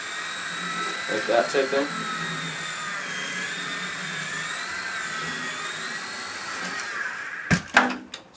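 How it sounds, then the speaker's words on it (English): A Novus CX RC helicopter hovers and taxis low over a rug, its rotor giving a steady high-pitched whine that shifts slightly in tone. A person talks briefly over it, and there are a few sharp knocks near the end. "you can simply hover taxi by just turning like this and then going forward"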